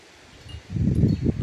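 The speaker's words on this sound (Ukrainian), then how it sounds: "Вітер наш сильний." Gusty wind rustles through foliage close by, swelling after a quiet moment into a steady, rough whoosh of stirring leaves.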